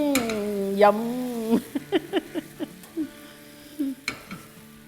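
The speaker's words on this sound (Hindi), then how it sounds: "अब आलू का चूल्हा भी बंद कर देते हैं, अच्छे से हिलाते हैं।" A spoon scrapes and taps through spicy potatoes in a pan with the heat turned off, a string of short, close clinks and stirs following a speaking voice.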